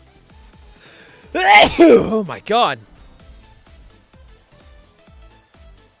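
A single loud, sudden human sneeze bursts out close to the mic, followed by a brief exclamation, over quiet game-stream background sound.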